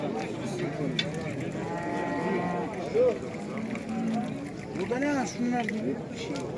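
Cattle moo repeatedly at a busy Turkish livestock market in Yıldızeli, Sivas, with drawn-out calls rising above a background of crowd noise and people talking nearby.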